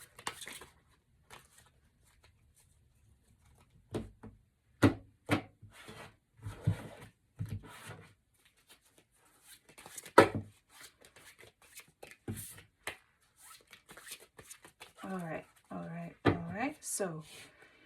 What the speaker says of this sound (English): I'm gonna have to shuffle this deck well because I didn't do it before.